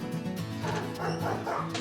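Two pet dogs barking and yipping insistently at close range, with loud, sustained noise and a voice briefly mixed in.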